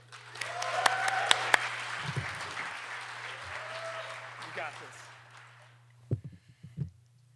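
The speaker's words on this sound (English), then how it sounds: "Let's give a round of applause for Nokkie Lipsey." Audience applause at a live talks event, a dense wash of clapping filling the room for several seconds before fading, with a few louder claps and thumps near the end.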